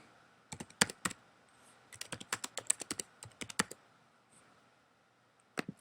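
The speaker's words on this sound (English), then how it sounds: "You can type them in one at a time and then click add or enter, or just put a comma there and keep adding them." Tags are typed on a computer keyboard in quick, irregular bursts of close, crisp key clicks, separated by short pauses.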